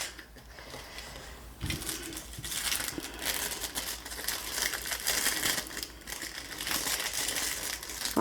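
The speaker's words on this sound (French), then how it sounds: "Le petit sac se déchire." A small plastic bag crinkles and tears open during an unboxing, giving close, continuous rustling and crumpling with a sharp onset partway through and no talk over it.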